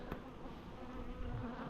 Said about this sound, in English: And look, there's a queen wasp there.